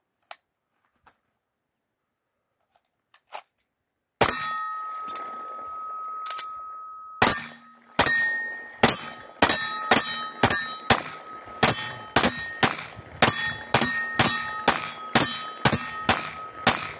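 Gunshots ringing off steel targets during a fast-draw shooting session, after a few faint clicks, a loud shot and metallic ring, then a rapid string of sharp shots each followed by a bright clang.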